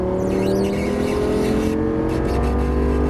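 Lamborghini Gallardo Superleggera LP570-4 accelerating on a race track, a loud, continuous engine roar with steady rising harmonic tones filling the whole three seconds, close and dominant.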